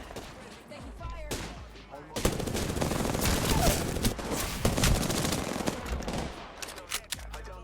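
Video game gunfire from a squad firefight, rapid bursts of automatic shots and scattered single cracks, loud and dense in the middle, with people talking over it.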